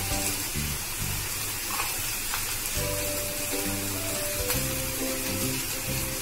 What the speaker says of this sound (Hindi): अभी इन सारे चीज को हमें अच्छे से मिक्स करके फ्राई करना है